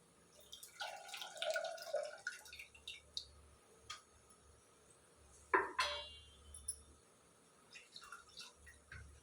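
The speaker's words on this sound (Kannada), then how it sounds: "ಇದಕ್ಕೆ ಹುಣಸೆ ರಸ ಹಾಕ್ಕೊಳ್ತೀನಿ" Tamarind juice is poured into a pot of sambar with soft splashing and trickling, followed by scattered drips and a few light clinks from a utensil, quiet and close.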